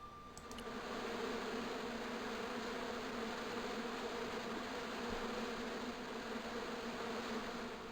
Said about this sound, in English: As I walked towards the bush, it started buzzing angrily.